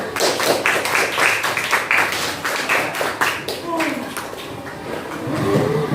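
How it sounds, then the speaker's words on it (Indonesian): Participants in a classroom mentoring session applaud a student group after its presentation, loud close clapping from several people that fades into scattered claps, with some voices speaking faintly underneath. "tepuk tangan, kita beri aplaus untuk kelompok 1"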